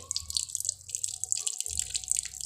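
Water from a hose splashes and trickles steadily into an automatic washing machine nearby, with bright dripping and a low hollow rumble, no talking.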